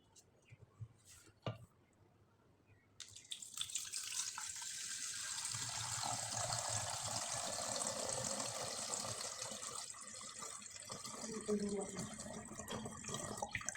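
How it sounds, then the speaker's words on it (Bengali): Water runs steadily into a cooking pot after a brief quiet start, a continuous close splashing fill building and lasting over ten seconds, while preparing mango bhapa pitha. "এবার পাত্রে জল ব্যবহার করতে হবে।"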